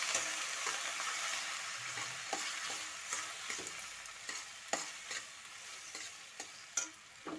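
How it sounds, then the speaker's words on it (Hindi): Pasta with capsicum and carrot stirred in a pan, with a soft continuous sizzle and frequent light scraping clicks of a spoon against the pan, close but fairly quiet, with no speech. "अब हम डालेंगे पास्ता।"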